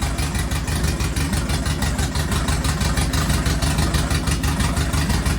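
A Ford Fiesta MK1 engine idles close by, a loud, steady, slightly lumpy running note with rapid even firing pulses and no voices.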